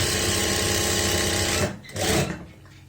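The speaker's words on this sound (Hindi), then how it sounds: "यहाँ पे इस तरीके से रखते हुए सिलाई लगाएंगे।" A sewing machine stitches a shirt lining in a steady fast whirring run, close and loud, then pauses briefly and makes one more short burst.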